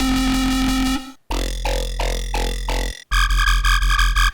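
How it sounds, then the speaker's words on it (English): A gurgly, wobbling jump-up drum and bass frog bass from the Serum synth plays several short, warbling notes with abrupt cutoffs, like a croaking frog, loud and alone. "These are some of the frog basses in the pack."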